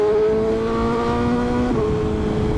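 A BMW M1000RR sport bike with an inline-four engine of over 215 horsepower drones steadily at high revs close by, its pitch holding then dropping slightly near the end, with a busy ambient background and no talk.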